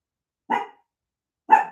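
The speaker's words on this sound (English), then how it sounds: "he's making the dogs bark" Dogs bark twice in the distance, two short separate barks about a second apart, with silence before, between and after them.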